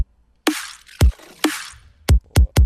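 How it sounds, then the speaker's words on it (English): An electronic glitch-hop kick drum sample with a small vacuum-style pre-transient layer: swelling noisy whooshes snapping into punchy low thumps, then three quick hits near the end, dry and up close with no talking. "it's really just this really small layer combined with the kick"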